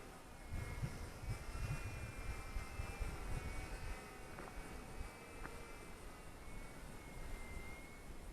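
Faint whining buzz of a small Eachine E130 four-channel gyro-stabilized RC helicopter flying at a distance in a breeze, its rotor tone steady and thin under wind noise, with no talking.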